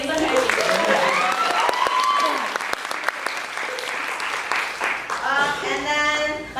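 Audience applause and cheering after a poetry performance at a jam-style open mic, dense clapping throughout with some voices and whoops rising over it, loud and close.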